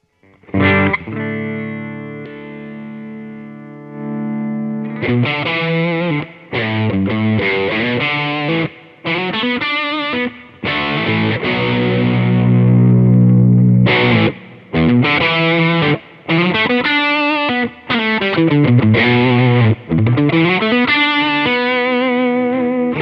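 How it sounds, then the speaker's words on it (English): Electric guitar on the bridge humbucker through a distortion pedal, with sustained chords and melodic runs and bends in loud phrases broken by short pauses. "here's gonna be your main gain stage. This is where you're gonna get distortion."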